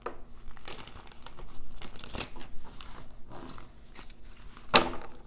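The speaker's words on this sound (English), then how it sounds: "These things do not want to be shuffled." Tarot deck being shuffled by hand, with irregular papery riffles, rustles and taps close up, plus a sharp crackle near the end and no talking.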